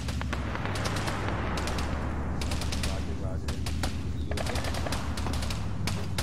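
Arma 3 battlefield gunfire in a city street fight, with sustained rapid machine-gun bursts and scattered single shots crackling over a continuous loud rumble, volleys near and far overlapping without a break.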